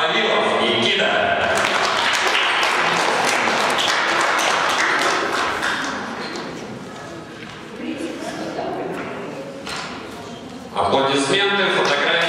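Applause at a taekwondo tournament award ceremony for the winning champion, steady dense clapping from a crowd filling the room, dipping briefly midway before surging again, with some voices mixed in.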